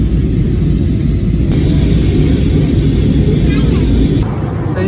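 Steady loud broadband rumble and hiss of an airplane cruising in flight, heard from inside the passenger cabin, continuous and even throughout.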